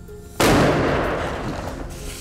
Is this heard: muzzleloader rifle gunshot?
yes